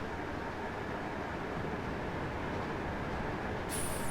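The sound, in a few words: train passing on the West Coast Main Line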